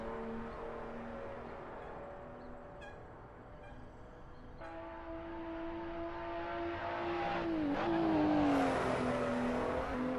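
A BMW M235i engine in Assetto Corsa pulls hard at full throttle on the Nordschleife, a steady harmonic drone rising in pitch, dipping briefly at a gear change, then climbing louder toward the end, with no talk.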